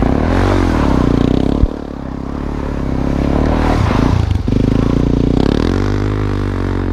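A Harley-Davidson Pan America 1250 adventure motorcycle rides through dirt, its engine giving a steady droning roar with rising and falling revs, plus a sharp scrape near the start and a brief dip midway.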